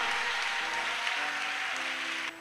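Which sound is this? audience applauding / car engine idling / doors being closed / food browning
audience applauding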